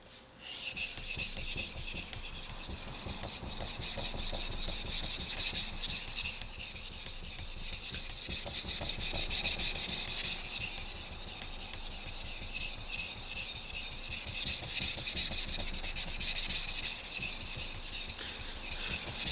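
A carbon steel knife is sharpened on a Gesshin 600 grit splash-and-go whetstone, giving a close, steady rasping scrape in rapid back-and-forth strokes that continue without pause.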